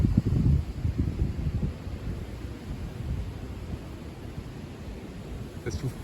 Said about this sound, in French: Là, ça souffle assez fort là. Des grosses rafales.